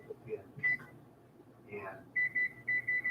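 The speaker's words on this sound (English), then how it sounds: "And I'm going to set my timer here." A kitchen timer being set for an oven preheated to 425 degrees gives a run of short, bright electronic beeps in quick succession after a moment of soft talk.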